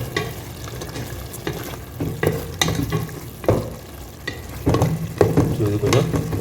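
Mutton for Dindigul biryani sizzles steadily in a pan, with repeated scraping stirs every second or so; no voices.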